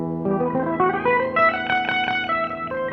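Vox Starstream modeling electric guitar set to a 12-string tuned in fifths, played as a bright ringing run of picked notes and chords with shimmering doubled tones, clean and close with no talking.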